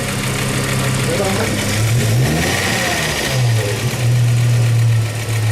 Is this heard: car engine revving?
yes